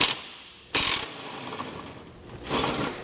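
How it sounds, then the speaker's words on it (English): A ratchet turning a 21mm socket backs out a subframe bolt while a Roadmaster base plate goes onto a 2022 vehicle, giving close, bright clicking bursts with a sharp jump in loudness partway through and a second burst near the end. "But this subframe bolt right here, we're going to pull that out. This is a 21mm socket I'm using."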